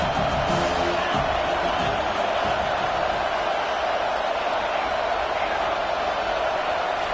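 Stadium crowd noise from the College Football 25 video game, a steady loud roar of fans trying to rattle an offense pinned deep in its own end, continuous and dense for the whole stretch.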